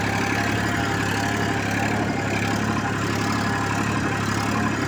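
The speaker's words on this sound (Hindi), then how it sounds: "मैसी 241 कितना बढ़िया ट्रैक्टर है, बहुत बढ़िया ट्रैक्टर चल रहा है।" A Massey 241 DI tractor engine runs steadily while pulling a nine-tine cultivator, a loud, continuous diesel drone with a low rumble and no break throughout.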